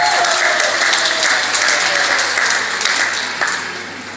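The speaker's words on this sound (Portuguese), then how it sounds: "Quero pedir uma forte salva de palmas ao curso de licenciatura e jurídico" At a 2022 graduation ceremony in Gwaza Muthini, a large crowd gives loud sustained applause for graduating law and teaching students, steady clapping tapering slightly at the end.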